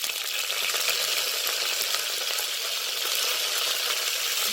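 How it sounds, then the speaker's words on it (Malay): Curry leaves, dried chilies and shallots sauté in hot oil in a pan for a vegetable tamarind and spinach curry, giving a steady, close, even sizzle and hiss with no voices. "kita tumis dia sekejap sampai bawang tu layu"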